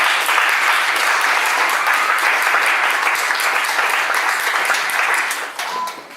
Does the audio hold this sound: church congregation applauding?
yes